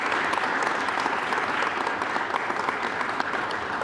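Steady applause from a large crowd at a correctional officers' graduation ceremony, continuous and full throughout, with no talking on top.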